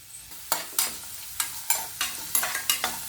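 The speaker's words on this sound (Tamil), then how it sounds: "இப்போ இந்த வெங்காயமும் பூண்டும் அதோட பச்சை வாசனை போகிற அளவுக்கு நல்லா வதக்கி எடுத்துக்குவோம்" Chopped onion and crushed garlic are sautéed in a pan, with about nine sharp scraping strokes of a spoon over a faint low sizzle, close and quiet, and no voices.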